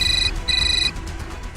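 Electronic phone ringtone sounds in two short bright bursts, close and clear, with a brief pause between and quiet background after.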